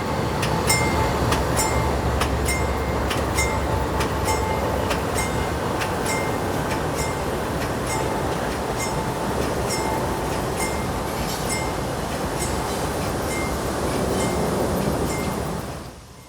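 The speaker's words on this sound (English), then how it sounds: "the power and crew of L700, the local train, backs down onto their Tampa-bound consist to pull away north" CSX local train L700 backing down onto its Tampa-bound consist in a rail yard, a steady rumble of locomotives and rolling cars with faint metallic clinks throughout, continuous and fairly near.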